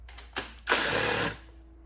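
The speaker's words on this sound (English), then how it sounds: "So all I got to do is remove that bolt" A bolt is removed from the fuel tank area of a 2006-2007 GSXR 600 with a power tool: a short tap, then a steady whirring burst for about half a second that stops, leaving a faint hum.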